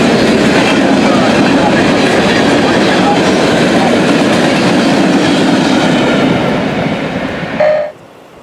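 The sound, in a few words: two diesel locomotives passing at speed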